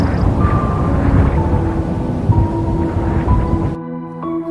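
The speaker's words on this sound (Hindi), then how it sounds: "ऐसे ही कुछ दूर चलने के बाद अचानक एक बड़ा तूफान आने लगा।" A sudden storm roars as a sound effect in a spooky graveyard tale: loud, dense rumbling wind and rain-like noise with a low drone, cutting off abruptly near the end into quieter tonal sound.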